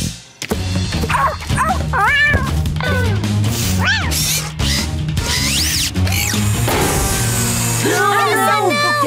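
Cartoon kitten meows in a children's animated show, several high, sliding mewing calls over a steady music bed, with barks and yips from cartoon puppies mixed in, close and loud.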